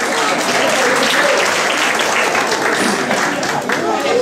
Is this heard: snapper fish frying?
no